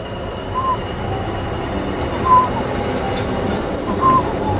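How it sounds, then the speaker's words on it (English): A diesel locomotive on the Nene Valley Railway, a steady low engine rumble and rolling noise at a moderate distance with a few faint high squeals. "isn't it just bliss when a diesel goes like"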